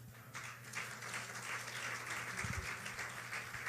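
A church congregation applauds together, dense steady clapping filling the room at moderate volume, with faint voices underneath.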